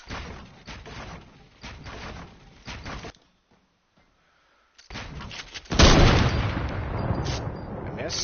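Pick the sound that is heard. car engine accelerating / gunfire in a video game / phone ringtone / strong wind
gunfire in a video game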